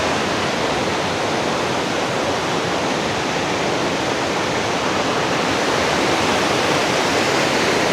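Steady, loud roar of Maya waterfall in Thailand filling the whole clip, a dense continuous rush with no pauses or other sounds.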